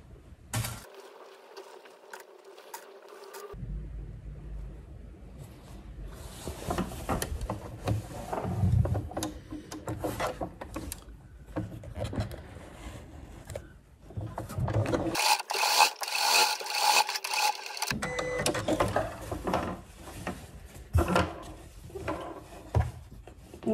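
Sewing machine stitching the shoulder seams of a dress, running in bursts of fast mechanical whirring and clatter separated by brief pauses, with small handling noises between runs.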